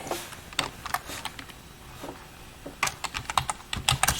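Fingers type a terminal command on a computer keyboard connected to a Raspberry Pi 4, with a steady scatter of close, crisp key clicks that quicken into a denser burst near the end.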